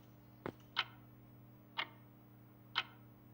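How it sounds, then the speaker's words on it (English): A clock ticks in the video game INPUT6, four sharp isolated ticks spaced irregularly against a faint steady hum, close and clear with no talk. "Very occasionally you might hear the ticking of a clock"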